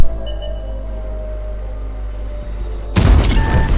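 A tank cannon fires in a tank combat video game, a sudden loud, deep boom with a crackling blast after a low steady engine drone.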